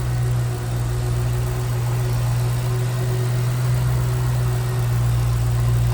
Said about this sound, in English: There it is, that SVT built by hand, supercharged V8.